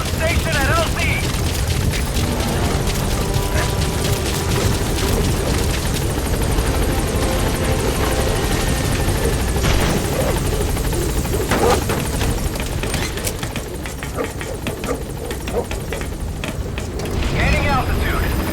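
The B-Quad helicopter in Metal Gear Solid V roars with loud, continuous, close rotor thumping and engine noise, and a radio voice talks over it.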